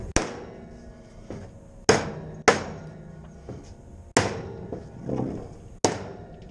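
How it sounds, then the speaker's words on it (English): Carriage bolts are hammered into a trailer frame for a soft wash and pressure wash rig, heard as about six loud, sharp metallic blows spaced irregularly, each ringing out briefly, with no talking. "So once they're in, you give them a smack, and then that will put a little square impression there, hold that bolt in place."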